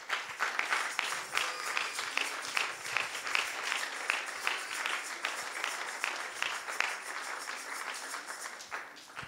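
A church congregation applauds during a French-language sermon, a steady wash of clapping that carries on without a break and fades slightly near the end.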